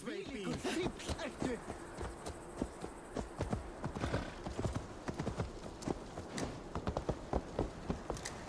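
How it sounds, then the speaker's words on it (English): A horse gallops with rapid, close clip-clop hoofbeats in the video game Assassin's Creed Valhalla, with a brief whinny early on and a voice talking over it. "Excuse me. Horse coming through."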